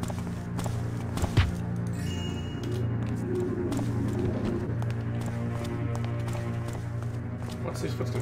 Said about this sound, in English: I'm hearing running footsteps.